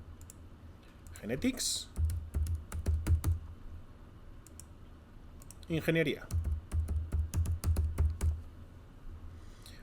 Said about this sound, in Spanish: En este caso voy a teclear ethics